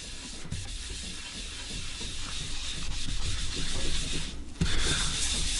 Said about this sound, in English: So we'll rub this on as hard as we can.